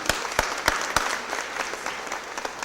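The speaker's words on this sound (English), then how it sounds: "Let's give him a big round of applause." Applause from an audience at a city Board of Aldermen meeting, a burst of sharp individual claps up front thinning into a steady, moderately loud patter of clapping.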